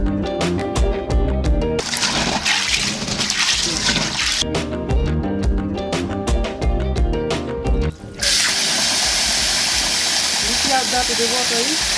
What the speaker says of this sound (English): Now we are going to wash with cold water.